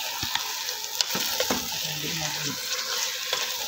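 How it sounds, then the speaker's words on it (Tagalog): Chicken biryani being stirred in a pan, with a soft sizzle and frying hiss, intermittent scraping and clinks of a utensil against the pan, and a little watery bubbling, close and fairly quiet. "Haluin natin."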